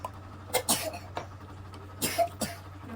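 A few short, quiet coughs in bursts, a pair early and another pair later, over a low steady background hum.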